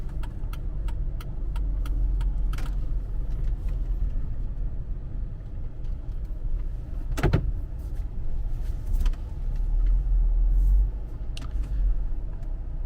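Mercedes-Benz car driving along with a steady low engine rumble and road noise, the engine revving smoothly and staying fairly constant, with a brief louder swell partway through.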